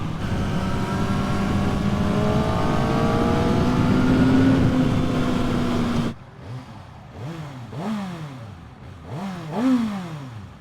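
A 2024 Kawasaki ZX-6R sport bike's inline-four engine holding a loud, high, steady wail at speed, then blipping through a series of sharp rev rises and falls, close and without talk.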